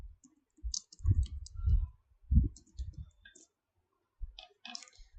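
Computer keyboard typing in quiet surroundings: a few short bursts of soft clicking keystrokes, close and faint, separated by brief pauses.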